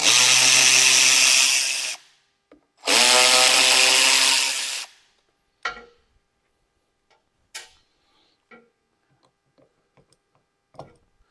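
A power tool spins 8 mm bolts out of a door on an older Ford truck in two loud, close, sustained whirring bursts of about two seconds each, followed by faint clicks and clatter.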